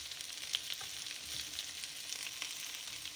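Duck and potatoes fry in butter with garlic in a pan, giving a steady close sizzle with faint crackles and pops that holds evenly throughout, with no talking.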